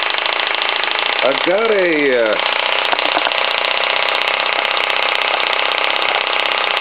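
A vertical fire-tube live steam plant built for the Diana launch runs steadily on the throttle, giving a continuous mechanical hiss and chuff that stays loud throughout, while someone talks over it and a brief whistle-like sweep rises early on.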